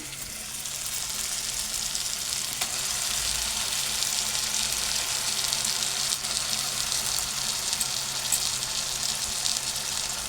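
Steady, loud sizzling of a ground spice paste frying in a hot pan on low flame, a continuous crackling hiss with no talking.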